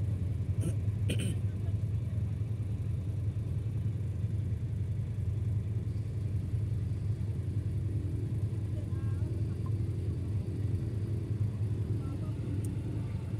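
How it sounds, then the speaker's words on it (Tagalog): A car on a drive toward Laguna rumbles and shakes steadily as it travels, a continuous low, loud road-and-engine drone that runs unbroken throughout, with faint voices at moments. "Nagsayaw-sayaw yung sasakyan."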